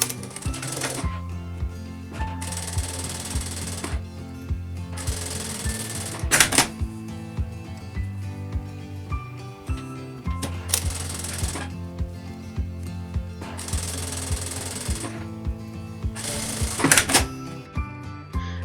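Sewing machine stitching the hem of a sweatshirt, bursts of rapid mechanical whirring and clatter lasting a couple of seconds each, separated by short pauses, loud and close.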